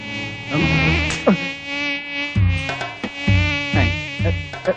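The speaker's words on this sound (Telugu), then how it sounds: "ఈగలు ఒకటి." Flies buzz in a comedy scene, with droning insect whines rising and falling in pitch across several close, loud passes.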